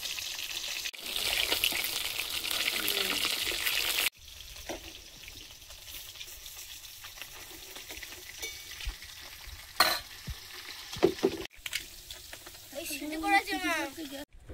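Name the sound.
frying small fish in hot oil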